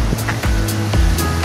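Sea waves wash against the shore at the seaside, a steady broadband rush of surf with a few swelling pulses over about a second and a half, close and fairly loud, with no talking.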